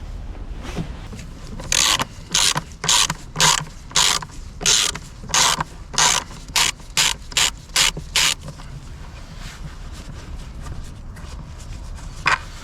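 A ratchet wrench clicks in quick bursts as screws are loosened on a Renault Kangoo 1.9 D diesel engine, about a dozen sharp ratcheting strokes close by over a quiet workshop background, then stopping.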